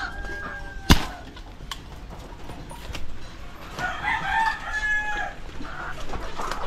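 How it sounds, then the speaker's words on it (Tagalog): Chickens clucking and a rooster crowing nearby, with a sharp knock near the start and scattered farmyard noise in the background. "Ang mga manok natin yun"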